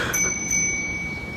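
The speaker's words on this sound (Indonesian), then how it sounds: "Gua kayak denger suara lonceng dari atas," A small bell rings from somewhere above in a village at night, giving a couple of thin, high struck tones that hang on over a dull background murmur.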